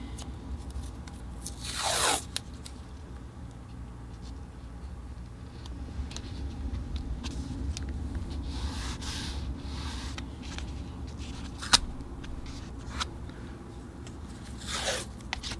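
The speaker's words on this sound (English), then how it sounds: "And then I take my artist tape." Artist tape peeled off its roll while setting up an apple and lemon still life, giving two short ripping tears a dozen seconds apart over a quiet room hum, close and fairly soft.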